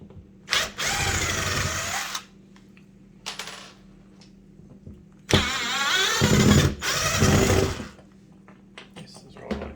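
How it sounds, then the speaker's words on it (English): A power drill unscrewing the screws of a towel ring, two loud whirring bursts a few seconds apart with shifting pitch, close by, separated by quieter gaps with a short clatter. "Just going to unscrew it."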